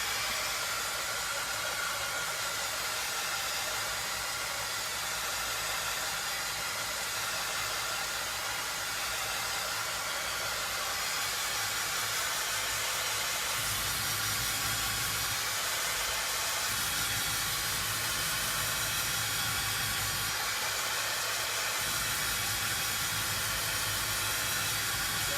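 A hair dryer drying a craft project runs continuously with a steady, loud, broadband blowing hiss, alone and without talk.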